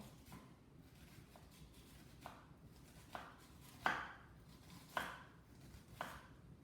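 A knife cuts an onion on a cutting board, giving soft, separate chopping taps about once a second that grow a little louder. The room is otherwise quiet.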